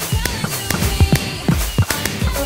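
Minecraft fireworks rockets bursting at a New Year's party in the game, a rapid series of sharp, loud pops and crackles spaced irregularly over a couple of seconds, with a little voice chatter underneath.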